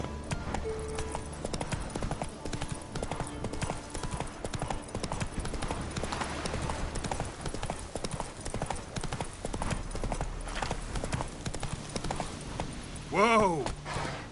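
Roach, a horse in The Witcher 3, clops along with a steady rhythmic hoof beat throughout, with ambient game sound and a short whinny near the end.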